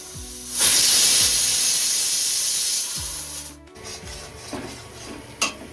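A pressure cooker full of potatoes lets out a loud, sustained steam hiss for a couple of seconds that fades into softer venting with a few clicks and knocks, no voices.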